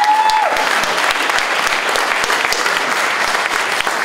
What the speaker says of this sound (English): give Sid Haig the round of applause that he deserves